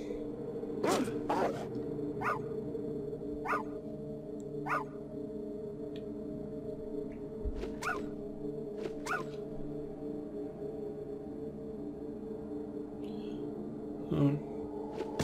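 Dogs in the video game Fallout 1.5 Resurrection give a series of short, sharp barks and yips spread across the stretch, mid-distance and moderately loud over a low steady game hum, with no talking.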